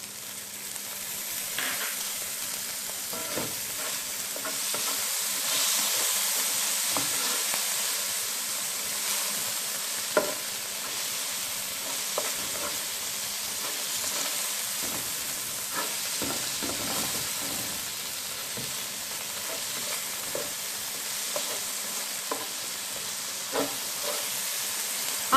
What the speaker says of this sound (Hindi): अब इसको मैं फ्राई करूंगी उस वक्त तक जब तक इसका कलर चेंज नहीं हो जाता।